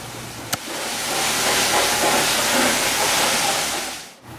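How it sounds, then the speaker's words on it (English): A spinner tool on a floor machine clears slurry from a honed travertine floor, giving a steady broadband whooshing hiss that holds for about four seconds after a brief click, then cuts off. "This is the removal with the spinner."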